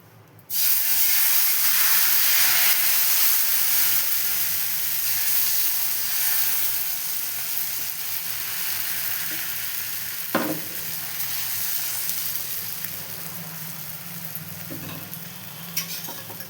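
Ragi dosa batter cooking on a hot pan, a loud steady hiss and sizzle that starts abruptly and holds for many seconds, with a couple of brief clacks of a utensil.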